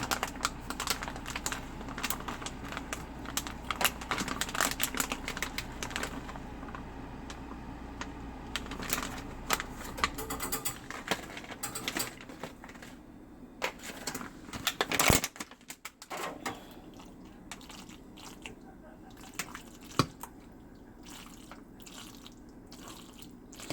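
Shredded cheese being stirred into mac and cheese in a bowl, heard as a steady run of soft clicking, scraping spoon taps, close and moderately loud, with a sharper knock near the middle.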